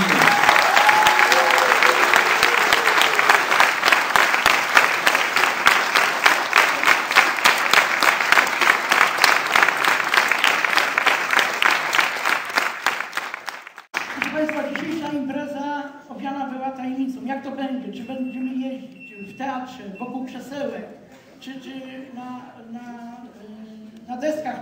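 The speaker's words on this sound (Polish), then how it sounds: "Dlatego jeszcze raz gromkimi oklaskami powitajmy wszystkich bohaterów" A theatre audience at a speedway-themed stage show in Gorzów Wielkopolski claps loudly and densely for about fourteen seconds. The applause then cuts off abruptly, giving way to quieter tonal sounds.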